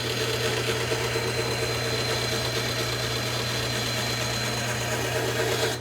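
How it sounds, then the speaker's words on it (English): Drilling a series of holes in Baltic birch plywood gear blanks with paper templates glued on, for a twin-screw gear-linked vise. A loud, steady motor whir with a low hum runs unbroken throughout, and no one speaks. "so I'm drilling all those holes now"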